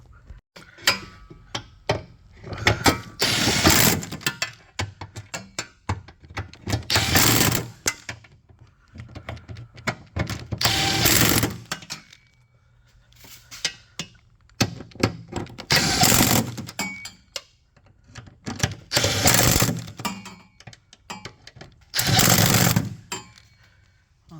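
A ratchet tightens bolts with a 14 mm socket on the transfer case of a Mercedes W164/X164 ML350 or GL450. Rapid clicking comes close up in several bursts, separated by short pauses.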